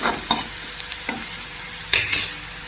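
Onions sautéing in a pan with intermittent stirring: soft scraping strokes and faint sizzle, a few sharper scrapes spaced irregularly, close and fairly quiet.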